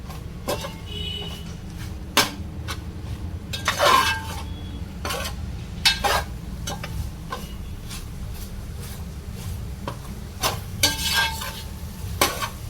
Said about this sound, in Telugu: దీన్ని ఇప్పుడు ఫ్రై చేసుకోవాలి బాగా ఉప్పు కారం మంచిగా కలిసి బాగా బోటి కూడా ఫ్రై కావాలి